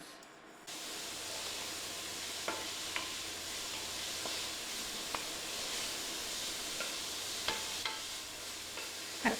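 Onions frying gently in a pan for a light-coloured pasta dish, a steady close sizzle with a hissing bed and occasional sharp pops or stirring clicks, no talking.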